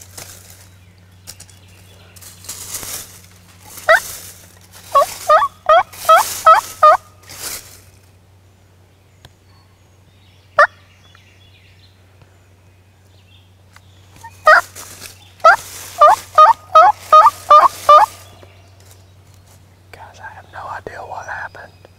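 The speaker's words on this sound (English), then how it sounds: "this turkey I think is with her because he just gobbled and he's a lot closer" Wild turkey gobbling in woodland, two bursts of rapid rattling gobbles several seconds apart, moderately close and loud over a low steady hum, with faint whispered talk between calls.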